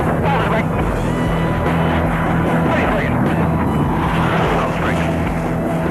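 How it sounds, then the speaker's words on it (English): Six Blue Angels jets pulling up in a Delta formation and peeling off left in succession during the pitch-up break, a loud, steady roar of jet engines filling the air throughout, with voices mixed in. "Flying the Delta, the 6 jets pull up and peel off to the left in succession"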